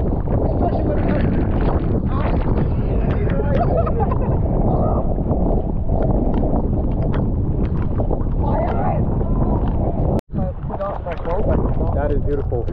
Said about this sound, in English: we can't see anything because it's so windy and rainy